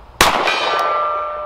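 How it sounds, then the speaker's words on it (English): A Sig P365 X Macro pistol shot strikes a silver steel gong, giving one sharp, loud clang that rings on with a long, steady metallic tone fading slowly, with no talking. "Let's go back to the silver gong. I like the sound of it."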